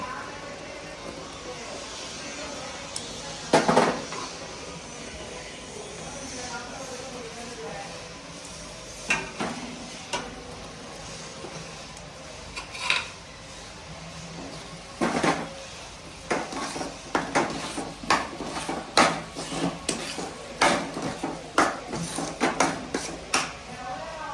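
Occasional metal scrapes and clinks of a spoon against a pot of spinach khichdi, sparse at first then more frequent, over a quiet background hiss.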